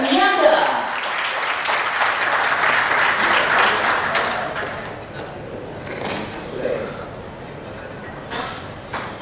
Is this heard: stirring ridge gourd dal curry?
no